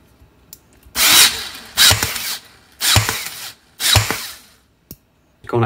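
Salvaged Ryobi Air Strike cordless nailer motor on a bench test, four short bursts of whirring, drill-like spin with pauses between, close and fairly loud, with no talking.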